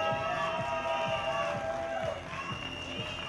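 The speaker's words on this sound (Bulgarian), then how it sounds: "Аплодисменти!" A theatre audience at a stage show in Karlovo applauds, steady clapping with rhythmic thumps and cheering at moderate distance, fading slightly toward the end while a voice speaks faintly over it.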